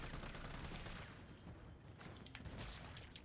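Rapid gunfire in the video game Resident Evil 3 Remake, a dense, continuous burst of shots with sharper cracks near the end, loud and unbroken throughout.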